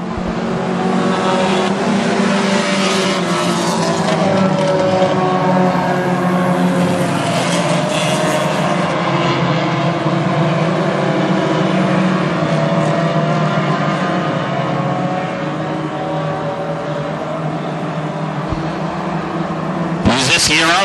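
Hornet class race cars race at Ogilvie Raceway, several engines snarling and droning together with shifting revs, loud and continuous, while an announcer talks over the racing.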